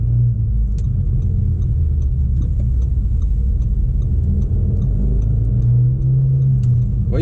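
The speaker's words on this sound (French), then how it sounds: "on entend vraiment bien la sonorité du 5 cylindres que j'ai retrouvé dans plusieurs gammes RS" An Audi RSQ3's five-cylinder engine idles and burbles at low revs in sport mode, giving a steady, loud, deep rumble with a slight swell near the end, with no voices over it.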